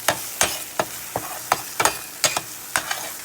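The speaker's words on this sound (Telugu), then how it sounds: "ఇవి కూడా ఈ మసాలా కూడా ఆయిల్లో మంచిగా కలగాలి చూస్తున్నారా అడగంటుతుంది అడగండకుండా మంచిగా కలుపుతూ ఉండాలన్నమాట" Masala spices fry in oil while a spoon stirs them. The pan sizzles softly underneath as roughly ten sharp scraping strokes land in a fairly regular rhythm over a few seconds, close by and with no voices.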